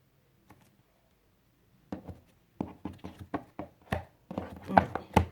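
Tarot cards are cut and handled on a table in a series of soft, close taps and slaps, first sparse and then faster. Quiet speech can be heard faintly underneath.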